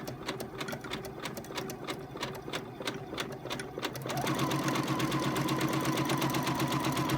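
A quilting sewing machine stitches a leaf pattern, running steady and fast with a brief hesitant stretch before settling into a continuous, louder whir of rapid needle strokes.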